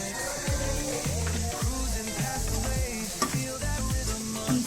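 A spoon stirs ground cumin, turmeric and salt into a masala in a pan, a soft scraping and sizzling that runs steadily throughout with no talk over it.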